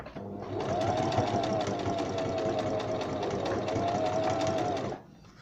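A Brother BM 3700 domestic sewing machine runs a straight stitch in one continuous, even whirring burst lasting several seconds, close and loud, then stops abruptly.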